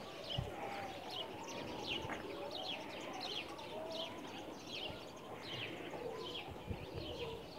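Pigeons kept by a Pakistani pigeon fancier give low, rolling coos that repeat over a murmur of birds in the open air. Other chirps and faint background sounds mix in.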